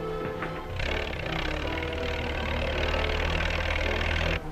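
A big truck's engine idles and revs, a deep steady rumble close by that swells and holds loudly, then cuts off abruptly at the end.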